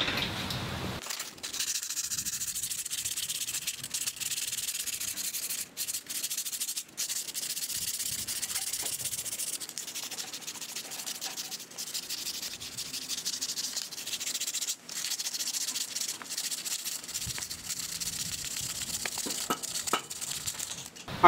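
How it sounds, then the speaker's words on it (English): A brake hub is sanded by hand with 220 grit sandpaper, giving a continuous close scratchy rubbing broken by brief pauses between strokes. "We're gonna take our 220 grit sandpaper and just try and get it as smooth as possible."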